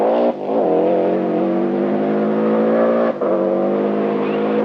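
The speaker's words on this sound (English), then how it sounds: "see just how hard the Pirelli tyres that McRae uses are working on this hairpin" A Subaru rally car on Pirelli tyres works hard through a slippery forest hairpin high on a Welsh mountain in the 1991 WRC Rally GB. Its engine roars loud and close, holding high revs, with two brief dips as the throttle lifts.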